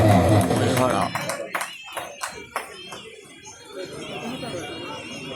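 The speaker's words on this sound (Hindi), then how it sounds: "जोरदार ताली हमारे राजा भैया के लिए।" Audience applause at a bhajan singing competition in Dolariya tehsil, Itarsi district, a burst of clapping at the start that thins into scattered claps and crowd chatter.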